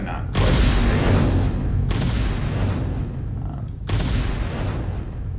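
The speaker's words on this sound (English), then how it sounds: "And so I got out the rocket launcher. And, there's a bit of damage." Rocket launcher explosions in an Unreal Engine 5 game, three loud booming blasts about two seconds apart, each with a long rumbling tail that fills the gaps, close and heavy, with no voice over them.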